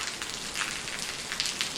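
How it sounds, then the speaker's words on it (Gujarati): Heavy rain driven by strong wind, during a lightning storm, makes a steady, fairly faint hiss and patter, with small bursts of louder spatter throughout. "ફૂલ પવન સાથે વરસાદ છે અત્યારે તો"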